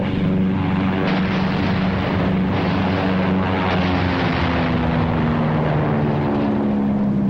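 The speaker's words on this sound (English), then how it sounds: "Fighter planes move in to support the ground troops." Propeller fighter planes roar in low over a Korean War hillside during the Inchon landing, a loud, steady engine drone with sustained harmonic hum that swells and holds throughout, with no voices.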